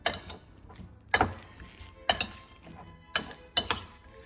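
A utensil clinks against a bowl while orange chicken sauce and garlic are stirred together. Five or six sharp, close clinks come at irregular intervals, with quiet scraping between them and no talk.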